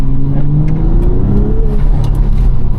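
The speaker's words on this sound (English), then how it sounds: "Let's see if we can hear this exhaust." A BMW G45 X3 M50 engine, rated 400 brake horsepower, revs hard and accelerates up close, its loud exhaust rumbling under a rising turbo whine.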